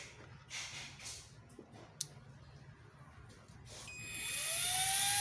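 A 24V DC kit pure sine wave inverter, rated 1000W at 220V with an LCD display, switched on under load; a low hum and faint clicks build into a steady rising high-pitched electronic whine near the end.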